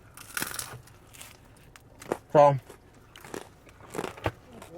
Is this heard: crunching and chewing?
yes